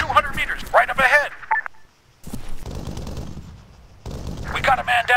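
Machine gun fire in the military video game ArmA 3, with bursts of rapid shots and sharp reports among short silent gaps, mixed with voices calling out during the firefight.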